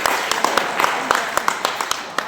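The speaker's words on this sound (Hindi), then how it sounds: "प्रार्थना करूँगा तालियों के साथ" An audience applauds at an inauguration ceremony in India, a loud, quick, steady patter of many hands clapping close by, continuing throughout.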